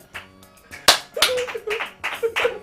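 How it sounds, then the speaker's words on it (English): Several sharp hand claps and slaps ring out in a fitness session, a loud crack followed by a quick irregular series of smaller smacks, close by and mostly alone. "The clap. And a clap."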